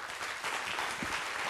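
A Hong Kong audience at a youth leadership class welcomes a woman legislator to the stage with sustained applause, a dense, steady wash of clapping at moderate level with no speech over it.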